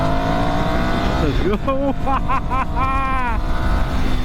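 A Ducati Scrambler Nightshift with an 800cc, 74-horsepower engine accelerates hard, its revs climbing in a few quick rising pulls through the gears, loud and close, with a person speaking over the start.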